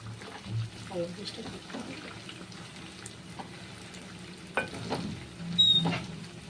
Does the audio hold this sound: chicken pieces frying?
yes